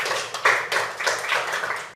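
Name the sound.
applause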